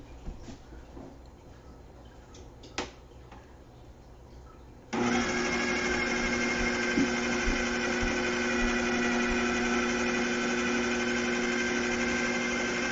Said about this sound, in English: we're gonna just blend it up